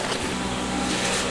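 A 1967 Cadillac engine that has sat for 30 years turns over slowly under the starter, a steady labored mechanical drone heard close up with no voices.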